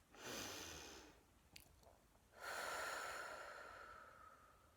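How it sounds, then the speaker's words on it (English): A deep, slow breath during a calming tapping meditation: a long inhale, a brief pause, then a longer, steady exhale, close and soft with no talking. "just take another deep breath"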